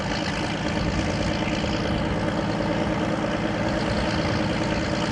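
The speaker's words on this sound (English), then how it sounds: "Now this is a regular piston engine." The regular piston engine of an experimental helicopter runs with a loud, steady, unbroken drone that stays level throughout.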